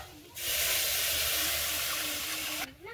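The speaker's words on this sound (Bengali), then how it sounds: "চাল ভেজে নিয়ে তাতে দুধ দিয়ে দিয়েছি।" Milk poured onto rice fried in ghee for payesh sets off a loud, steady sizzling hiss lasting a little over two seconds, then cuts off abruptly.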